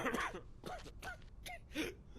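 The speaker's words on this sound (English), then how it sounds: "He coughing and shit." A character in the horror video game Outlast Trials gives a few short, breathy coughs and throat-clearing sounds, moderately faint, spaced across about two seconds.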